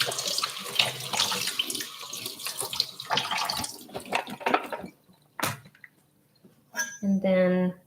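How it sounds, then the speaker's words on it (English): Fresh strawberries rinsed under a running kitchen tap, water splashing and hissing steadily into the sink for several seconds, then breaking off into a few drips and brief clatters nearby. "And give them another little rinse."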